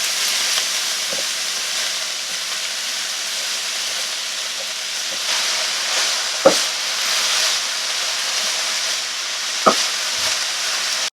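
Cabbage fries in a hot pan for chicken tinga, a steady loud sizzle running throughout. A few sharp scrapes from stirring break through the hiss, with no voices.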